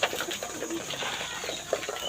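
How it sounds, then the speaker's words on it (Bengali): Pigeons cooing inside a loft where young flying pigeons and resting birds are housed; soft, repeated low coos sit in a busy, steady background of rustling and bird noise, fairly close with no talk. "এই পাশে কিছু রেস্টের কবুতর আছে"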